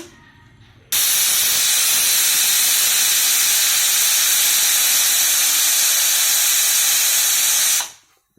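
A pressure cooker whistles as it releases steam: a loud, continuous hiss bursts out suddenly and holds steady for several seconds before quickly dying away, close by.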